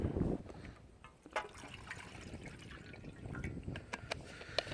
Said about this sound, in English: we're going to heat up some water because we need it for the tea